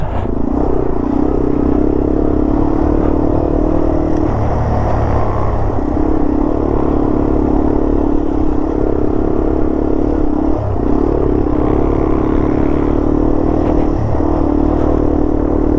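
Yamaha TW200 motorcycle riding trails on Colorado's North Divide, its single-cylinder engine droning steadily up close, with small rises and dips in revs over clattering, bumpy ground.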